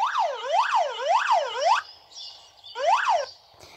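A police car siren in a video game wails in fast, rising and falling sweeps, loud and close, cuts off briefly with a short electronic tone, then resumes.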